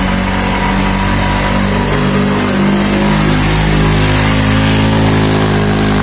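A tricycle engine revs loud and close on a city street, a continuous buzzing drone with a steady low pulse that carries through the whole stretch, with no voices over it.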